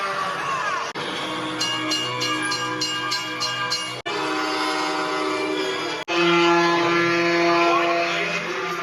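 Train horn sound effects from movies play as several separate sustained blasts, some with a pulsing, stuttering tone, split by short gaps, with the last one loud and steady, all without speech.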